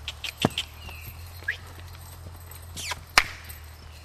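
A horse's hooves thud and shuffle on soft ground as it moves around a round pen, with scattered bird chirps and faint background noise.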